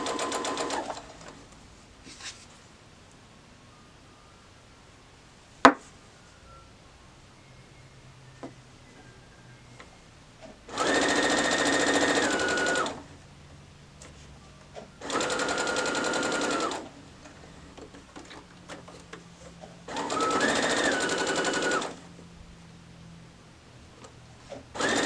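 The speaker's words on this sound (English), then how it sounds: "and now we're just gonna sew." A sewing machine stitches sashing strips for a nine patch quilt block using a 1/4 inch foot, running in three separate bursts of a few seconds each with quiet pauses and a sharp click between.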